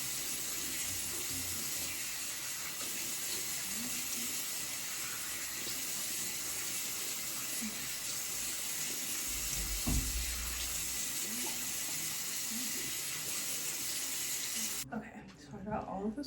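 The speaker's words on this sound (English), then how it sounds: "And I always put my water on like lukewarm." Lukewarm tap water runs into a bathroom sink in a steady, rushing hiss that lasts most of the time, then cuts off abruptly near the end.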